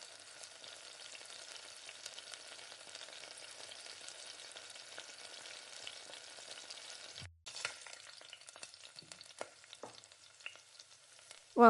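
Carrot and beans sizzle steadily in a pan with coriander-cumin spice powder, a soft continuous frying hiss that briefly drops away, then returns with scattered stirring clicks and scrapes.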